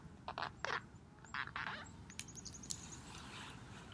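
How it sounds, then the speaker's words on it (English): A crow calls overhead outdoors during a winter storytime, giving several short, fairly clear caws over a constant low rumble of background noise. "a crow is flying over my head, talking to us"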